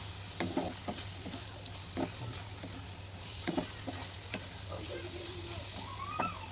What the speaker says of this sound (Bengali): যে আলুটা সুন্দর করে কষানো হয়ে যেতেছে